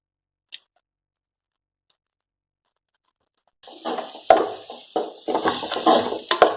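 Boiled, mashed potato stirred into a carrot masala in a pan for cutlets, heard as soft clattering, scraping and patting that starts after a long silence and continues close by, in irregular bursts.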